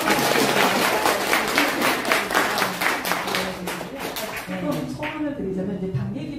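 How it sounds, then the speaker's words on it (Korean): Audience at a Korean book concert breaks into applause: dense, rapid clapping from many hands, loud and sustained, then thinning out toward the end as a voice begins speaking over it. "응원 박수"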